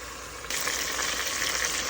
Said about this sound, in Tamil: கொஞ்சம் நேரம் அந்த நெய்யிலையும் எண்ணெயிலையும் கலந்து கொஞ்சம் நேரம் பொரியட்டும்.